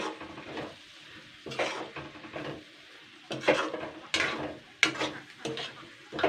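Fish roe frying in a little oil in a pan while being stirred, with bursts of scraping and sizzling at an uneven pace, separated by quieter gaps, close and fairly soft.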